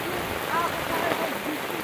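Heavy rainstorm in Pernambuco's agreste pours in a dense, loud, continuous hiss of rushing water, with a voice faintly present in the background.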